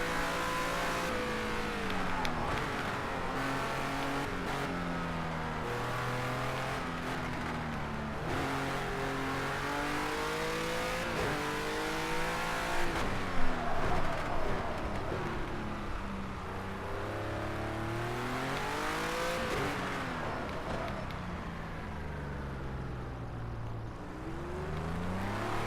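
Race car engine in a racing video game, revving and shifting continuously as the car laps a track, with rising and falling engine pitch throughout and no talk.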